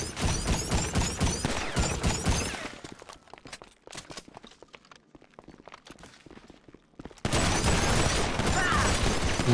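Rapid gunfire in the video game GTA V, dense bursts of shots at the start, sparser scattered shots and clatter in a quieter middle, then a loud sustained roar of fire and action.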